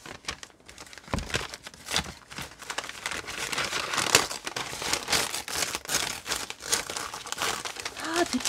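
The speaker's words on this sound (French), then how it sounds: "Hop, je vais ouvrir ça. Il y en a tout emballé." Wrapping paper crinkles and tears as a present of paintbrushes is unwrapped at a birthday party, a dense run of close crackling and ripping lasting several seconds, with voices talking in the background.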